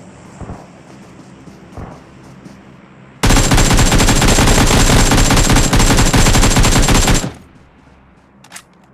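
Rapid automatic gunfire from a mobile shooter game played on a vivo Y33s phone erupts in one loud sustained burst of about four seconds, with quieter game noise before and after.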